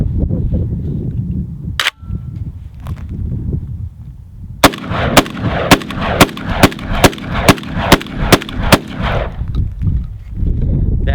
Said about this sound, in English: let's see how fast we can go through this 10-round clip.